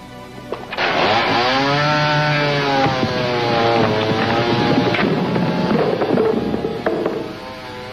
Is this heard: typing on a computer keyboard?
no